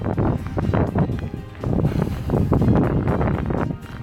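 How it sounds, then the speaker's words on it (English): Gusty wind buffets the microphone in heavy low rumbling surges on the South Downs Way between Beacon Hill and Exton, rising and falling over a few seconds with no other clear sounds. "there's big gusts coming in, so I'll have to keep an eye out on the weather."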